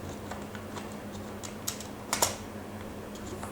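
Quiet, close keystrokes patter on a computer keyboard while Python code is entered, irregular light clicks with a couple of sharper taps near the middle over a low steady hum.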